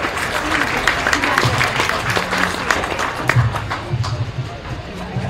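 A crowd at a county fair sheep show claps for the children in the ring, a loud, dense, sustained round of applause with faint voices mixed in.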